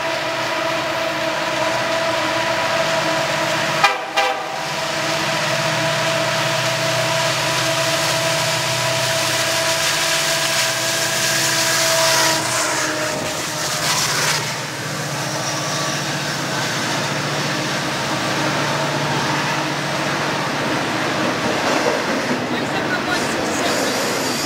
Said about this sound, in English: it looks like we got a couple SD70 M-2s on a double stack